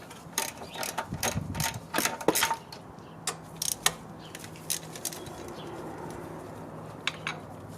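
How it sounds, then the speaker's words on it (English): A ratchet clicks in quick bursts, loosening 10mm bolts that hold the wiring harness to the intake manifold of a 1988–91 Honda Civic, fairly quiet and close, with short pauses between bursts. "we have a handful of 10mm bolts which hold the wiring harness connected to the intake manifold. Let's start removing those"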